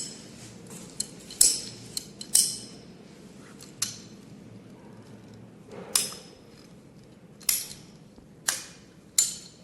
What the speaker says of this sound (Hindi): हम दोबारा एक बार काटते हैं पाइप को